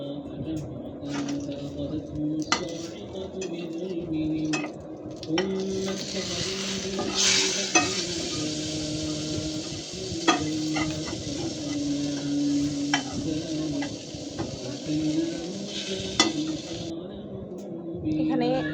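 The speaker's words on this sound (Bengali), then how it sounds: "খিচুড়ি রয়ে গেছে তা আমি গোলাকে গরম করে খেয়ে নেব" Leftover khichuri is reheated in a pot with a soft sizzle under repeated scraping stirs and occasional clinks of a spoon against the pot, while a person talks over it.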